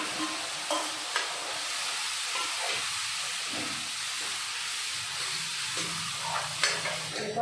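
Food frying in a pan gives a steady sizzling hiss, with occasional soft stirring knocks and scrapes close by.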